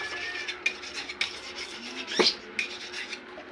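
A kitchen knife is rubbed against a sharpener in short raspy strokes, several scrapes in a row with brief pauses between them, close and fairly quiet, with no talking.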